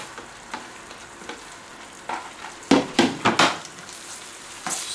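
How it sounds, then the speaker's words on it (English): Meat for chicken porridge sizzles steadily in a frying pan, with a loud hiss and several sharp clacks of a utensil stirring against the pan, clustered in quick strokes midway through and scattered more lightly before and after. "I'm gonna add all the meat"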